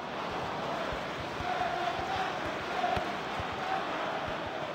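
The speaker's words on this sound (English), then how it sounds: "And the crowd are well behind their team now they've got their goal" A stadium crowd roars steadily in the Dream League Soccer 2021 football game, a dense, even wash of cheering that stays constant throughout with no clear peaks.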